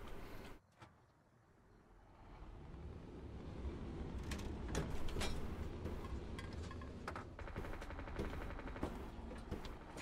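Rapid gunfire crackles through a modded squad match in a shooter video game, with sharp, repeated shots and bursts of automatic fire over a low rumbling backdrop, fairly quiet overall and getting busier after the first few seconds.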